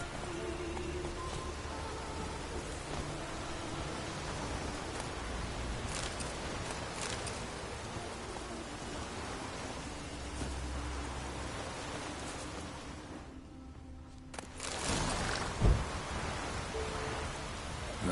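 Steady broadband rain hisses throughout in The Witcher 3 video game, a dense continuous wash with a brief dip near the end followed by a sharp louder burst.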